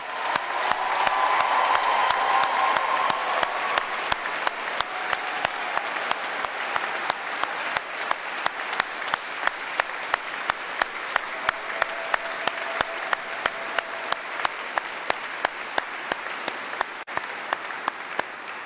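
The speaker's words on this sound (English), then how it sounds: "Let's have another round of applause." A large audience applauds at a university graduation ceremony in a great hall, with dense, sustained clapping that holds steady for the whole stretch, carried by many hands at once with a few sharp individual claps standing out.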